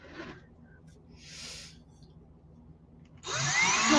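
A small power drill bores into a miniature dollhouse door, its whirring burst coming in loud and close at the end after quieter handling noises.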